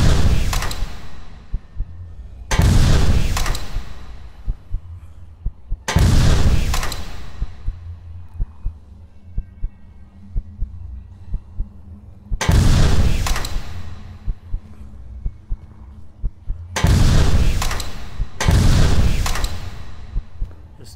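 Gunfire from a weapon in a first-person video game, tuned to sound punchy: several heavy booming bursts, each about a second or two long, separated by short quiet gaps, loud and close with no talk.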